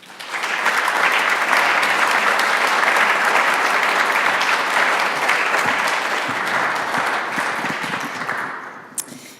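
A ceremony audience applauds to welcome the dean at a School of Health Sciences White Coat Ceremony, with steady, dense clapping sustained for about nine seconds before fading at the end.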